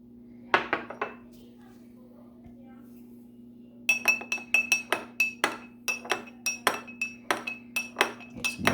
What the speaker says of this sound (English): I'm going to stir this up and we're going to see what happens.